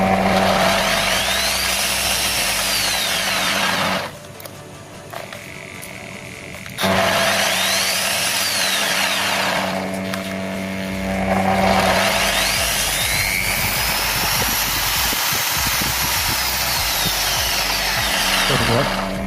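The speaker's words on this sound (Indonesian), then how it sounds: "Dan bor kita cokkan ke dimmer." An electric drill run through a homemade dimmer whines steadily, its pitch dropping and rising as the speed is varied, with a brief lull near the middle before it runs again.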